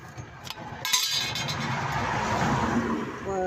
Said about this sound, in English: people drive past here really fast, and it's too fast